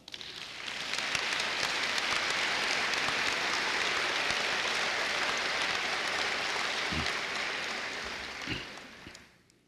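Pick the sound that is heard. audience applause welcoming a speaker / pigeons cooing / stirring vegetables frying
audience applause welcoming a speaker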